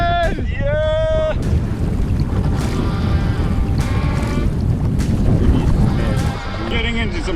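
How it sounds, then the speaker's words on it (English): A catamaran pushes through big sea swells in sub-Arctic waters while gusting wind roars constantly across the microphone, with loud rushing water. Voices shout and tonal calls ring out over the din. "Getting into some pretty big swells now, and it's gusting still."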